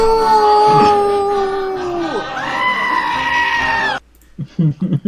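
A goat scream sound effect fired from a soundboard button: a loud, strained bleating cry with a sliding, wavering pitch that lasts about four seconds, then cuts off abruptly, followed by a few short bursts of talk.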